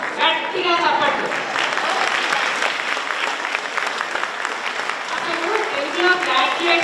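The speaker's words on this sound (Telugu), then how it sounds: "గట్టిగా చప్పట్లు." Loud, sustained clapping from a crowd at a school's 16th anniversary celebration, cheering forty students standing as graduates; the applause fills the room nearly continuously, with voices heard near the start and end.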